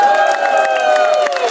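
A concert crowd at the Spectrum in Augsburg, Germany, gives a brief burst of cheering and clapping with whoops, loud and full throughout.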